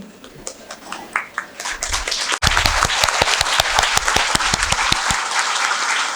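A standing audience breaks into loud, dense applause for an academy at an achievers' meet in Thoothukudi, starting after a sudden cut and continuing steadily with sharp individual claps standing out close by.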